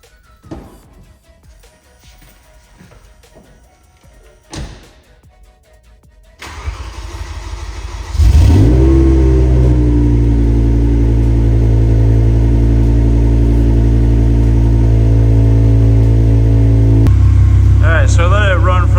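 BMW E60 M5 with a V10 engine, inside a shop: quiet talk-free rustling first, then the engine cranks and fires at about eight seconds, settling into a loud, steady idle with a brief blip near the end.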